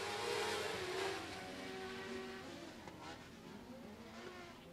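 Race cars under green flag at Golden Triangle Raceway Park roar steadily as a pack, a continuous engine drone with shifting pitch under an announcer's voice.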